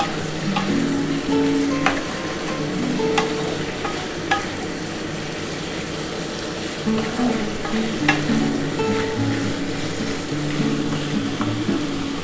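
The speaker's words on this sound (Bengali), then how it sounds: "এই রসুন আর আদা কুচি এর সাথে কিন্তু আগে এইটা মটনটা একটুখানি হালকা করে ভেজে" Mutton pieces fry with chopped garlic and ginger in a pan for an aloo mutton stew, sizzling steadily with repeated stirring scrapes and occasional utensil clinks close by, no talk.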